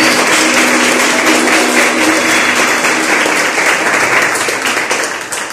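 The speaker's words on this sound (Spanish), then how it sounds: "Dale un fuerte aplauso a la palabra del Señor." Loud, full applause from a church congregation, a dense wash of many hands clapping steadily that begins to fade toward the end, with no talking over it.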